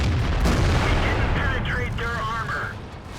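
A tank gun shot from the AMX AC Mle 48 in the World of Tanks video game: a heavy, booming blast at the start rolling into a long rumbling tail, with game sounds and a voice over the decay.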